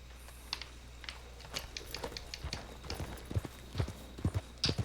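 Horse hooves clip-clop in the video game Red Dead Redemption 2, a steady series of soft, close hoof strikes that grows louder and denser toward the end, with faint keyboard-like clicks in the background.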